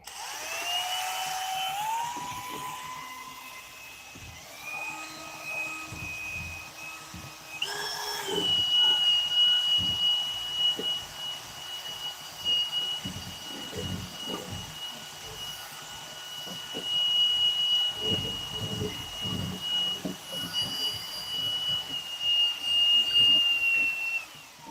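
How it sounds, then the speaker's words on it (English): A Milwaukee mixer whirs through light tempura batter, a steady high motor whine with scattered soft knocks and scrapes of the paddle against the container, continuing for most of the stretch. "using the nice Milwaukee Special Edition Wink Wink mixer"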